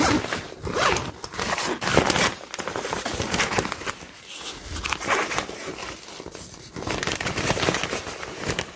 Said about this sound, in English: And then you have the double zipper system right here.